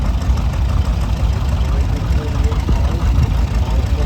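An old John Deere tractor engine runs at a steam and gas engine parade, a loud, close, steady low rumble with a faint knocking texture throughout, and voices faintly in the mix.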